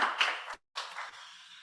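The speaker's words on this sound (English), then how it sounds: "let's give them a round of applause" Audience applause for a panel at a cybersecurity conference: a dense wash of clapping that breaks off briefly, then resumes and carries on at a steady, moderate level.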